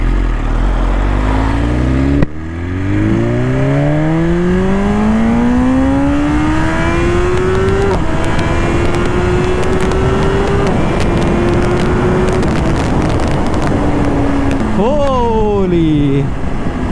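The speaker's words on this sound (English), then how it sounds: "So the motorcycle is in race mode now." A BMW S1000RR Pro M Sport motorcycle engine in race mode revs hard and climbs through the gears, a loud, close, continuous rising whine with a sharp gearshift near the end.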